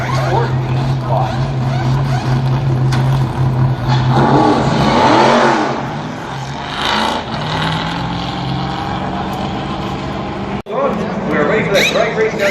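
ARCA race cars roar around Pocono Raceway, a loud continuous engine drone with revs rising and falling as the pack passes, under steady race commentary.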